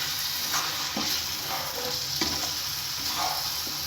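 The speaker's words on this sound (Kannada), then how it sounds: "ಹಾಕೊಂಡು ಇದನ್ನು ಮಿಕ್ಸ್ ಮಾಡ್ಕೋಬೇಕು ಈ ರೀತಿ ಕ್ಲೀನಾಗಿ." Cooked field beans are stirred into egg fried rice in a hot pan, with a steady sizzle and soft scraping stir strokes repeating about every half second. The sound is close and quiet, and no one speaks.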